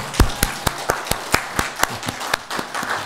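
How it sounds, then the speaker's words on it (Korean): A church congregation at a revival meeting claps together, a brief burst of sharp, evenly spaced claps that stay loud and near for a few seconds. "우리 하나님께 영광의 박수 올려드립니다."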